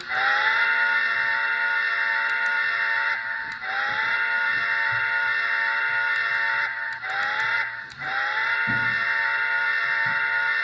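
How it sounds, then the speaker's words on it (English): An N scale Broadway Limited Reading T1 Northern steam locomotive's whistle sounds a grade-crossing pattern: long, steady chordal blasts broken by short gaps, loud and close. "I love my grade crossing whistles."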